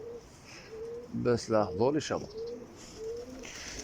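Pigeons coo in soft, low, throaty bursts with a rolling rhythm. Someone talks over them in the middle, and quiet outdoor ambience continues throughout.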